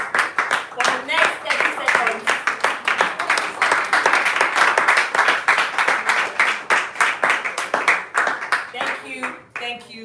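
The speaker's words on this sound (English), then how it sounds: "give a rounding round of applause on our feet" An audience at a Toastmasters meeting claps steadily after a speech, a loud, sustained round of applause lasting several seconds with voices mixed in.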